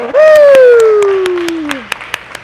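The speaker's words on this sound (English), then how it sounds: "People do the clap when it's, they're going for a record or it's their last jump." Rhythmic crowd clapping at a scissor broad jump event at the World Eskimo-Indian Olympics, steady claps under a long, loud, falling vocal cheer, then a few sharper claps standing alone at the end.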